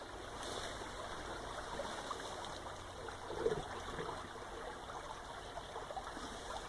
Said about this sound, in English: here is Elton Brook in its 1850 culverted stonework